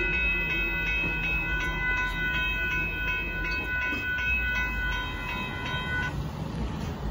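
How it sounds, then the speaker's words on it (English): A late-running southbound Amtrak Texas Eagle passenger train rolls past on a siding at a road crossing in Austin at night, its horn sounding in long sustained blasts over a continuous low rumble of wheels, fairly close. "there goes Amtrak passing Dittmar, but in the siding"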